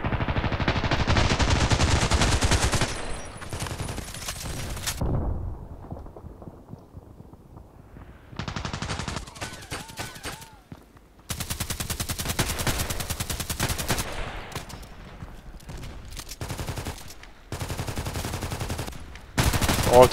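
Repeated gunfire bursts in outdoor shooting practice with an HK417, loud sharp volleys broken by quieter gaps with wind noise, some sustained rapid runs like automatic fire.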